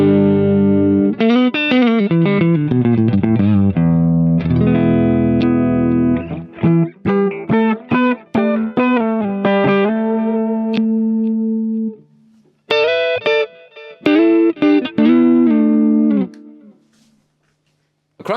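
A clean electric guitar tone through a Hotone Ampero II Stomp: loud, clear picked chords and single-note phrases with short gaps of silence and ringing decays, played alone.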